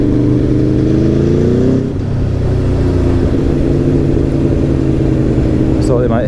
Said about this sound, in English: I thought they might like to hear some V4 sounds.